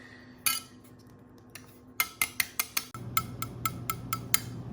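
Thin metallic clinks and taps, a handful of sharp bright strikes in quick succession, close and fairly quiet, a titanium Apple Card knocking against something hard.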